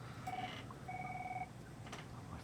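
An incoming telephone call on a podcast sounds as two faint electronic tones, a short one and then a longer one, followed by a couple of soft clicks against quiet background hiss.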